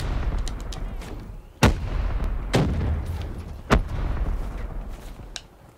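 A grenade explodes amid gunfire in Black Ops 3 multiplayer: three sharp, loud blasts ring out over a steady rumble of background battle noise, with no talking.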